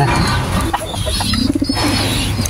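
Pigeons at a breeder's loft in Orion, Bataan coo in soft, throaty murmurs, a few rolling calls close by over a busy background of other birds.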